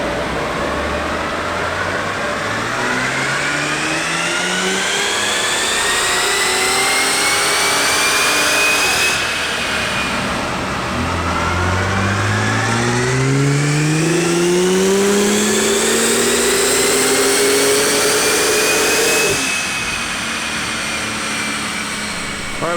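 A tuned Bentley Bentayga W12 twin-turbo engine on a dyno, loud and close, rising through repeated long revving sweeps that climb steadily, drop back, then climb again, with a steady mechanical drone and no talking.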